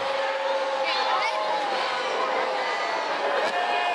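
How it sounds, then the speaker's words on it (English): Arena crowd at a men's college volleyball match between Hawaii and UCSB, a sustained roar of many voices reacting to a replay, steady and fairly loud with whistles and shouts poking through. "The crowd reacting to the replay showing above."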